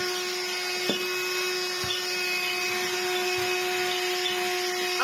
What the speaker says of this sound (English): have a working vacuum cleaner